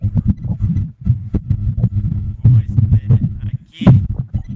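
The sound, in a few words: electric fan noise picked up by phone microphone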